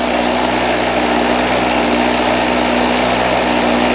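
Harbor Freight Storm Cat 2-cycle generator engine running steadily, a loud, close, buzzing high-pitched drone with no breaks or change in speed.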